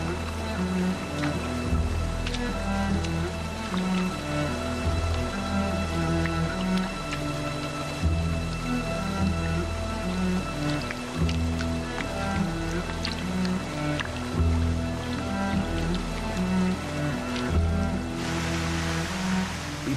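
A powerful waterfall pours down a huge rock face as drops of water fall heavily. The water makes a dense, continuous roar and splash that stays loud and unbroken throughout.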